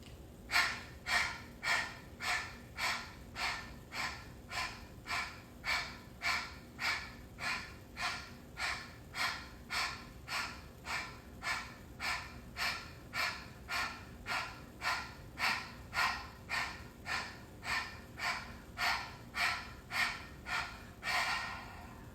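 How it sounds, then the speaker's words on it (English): Kapalabhati yogic breathing: rapid-fire exhales pushed from the belly, about thirty sharp, evenly spaced breath bursts in a steady rhythm, close and clear with no talking. "moving into Kapala body breathing, a rapid fire exhale, origin in the belly"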